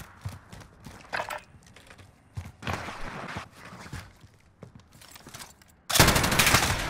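Gunfire rings out during a 2v2 gunfight in a video game, with irregular bursts of sharp shots and rapid automatic fire, ending in a loud, dense barrage.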